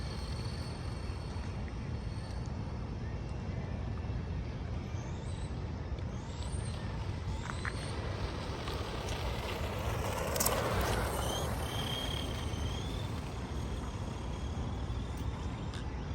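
A 1993 Team Losi XX RC buggy running on 32-year-old tires whines steadily as it drives, a continuous electric motor buzz with pitch rising and falling as it speeds up, passes and slows.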